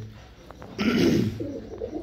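Bred pigeons coo in a loft, with a soft, low warbling coo close by and faint background bird sounds.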